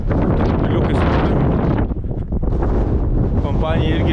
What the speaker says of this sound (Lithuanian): Čia vėjas didesnis negu viršui.